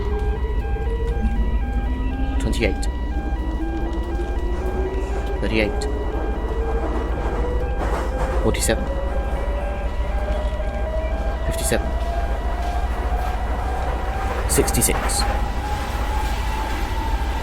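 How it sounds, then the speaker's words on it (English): An alarm in a tube train simulator game sounds as a steady electronic tone that slowly rises in pitch across the whole stretch, with a voice talking over it throughout. "This will be kind of annoying, I think, the alarm."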